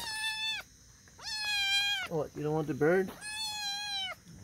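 A kitten playing with a large wild bird gives several drawn-out, high meows, close by, with a person speaking briefly between them.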